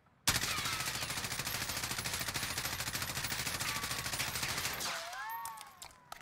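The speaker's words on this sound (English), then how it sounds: "I'm going to shoot the gun." A fast, loud burst of automatic gunfire in Call of Duty Warzone rattles on for several seconds as the shots stream together, then cuts off abruptly and leaves faint game tones behind.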